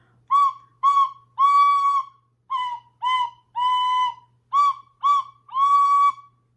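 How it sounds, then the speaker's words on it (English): A tin whistle plays Mary Had a Little Lamb, a dozen clear, bright notes in short phrases with brief pauses between them, loud and close. "that was our tin whistle, practicing Mary Had a Little Lamb"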